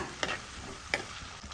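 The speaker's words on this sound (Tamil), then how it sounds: "இப்போ அதையும் சேர்த்துட்டு நல்லா வதக்கி விடுங்க" Halved small onions sauté in a pan for potato kara kulambu. A soft sizzle runs underneath two quick scraping stirs of a spoon against the pan.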